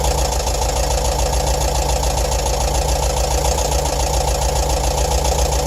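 A bus engine idling while under repair, a steady low rumble with a constant mid-frequency hum and faint knocking, running evenly and loud throughout with no talk.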